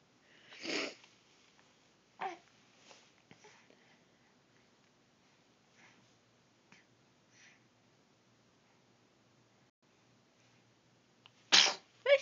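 A person sneezes loudly and close by near the start, followed by a few smaller sniffs and snorts, a quiet stretch, then two more sharp sneezes at the end.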